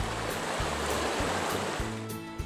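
Rushing water of Deer Creek surging beneath a wooden bridge, a steady broadband roar that is close and loud throughout, with a low rhythmic thumping pulse underneath.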